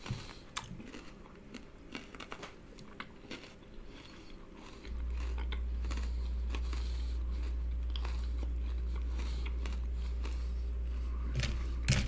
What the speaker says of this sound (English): let's try the cereal